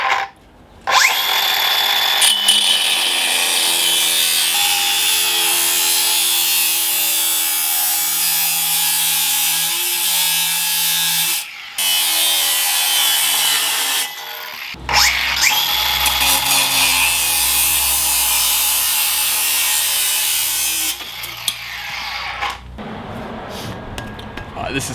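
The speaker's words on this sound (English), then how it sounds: "This is an old washing line. It's thin aluminium. It should cut super easily." A Bosch GWS 18V-180 cordless angle grinder with a cutting disc slicing through an old thin aluminium washing line: a loud, high, sustained whine broken by a brief dip partway through, then continuing until it spins down.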